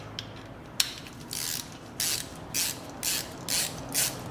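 A flex head ratchet has its set screw worked loose, giving a series of short, sharp metallic clicks and ratcheting bursts in a fairly even rhythm, close and moderately loud with quiet gaps between.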